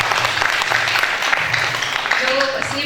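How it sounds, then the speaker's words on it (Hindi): An audience at a youth conference claps for a young woman presenter, a dense burst of applause that fills the short moment with voices mixed in. "तो इनके लिए तालियां बजाएं।"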